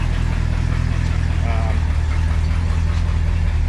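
An International pickup's engine idles with a deep, rough, steady rumble through a glass pack exhaust with holes on one side, close and loud for a few seconds.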